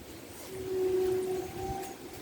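A train rumbles past floodwater in a village, with a low, steady mechanical drone and a faint, sustained whine rising then easing off.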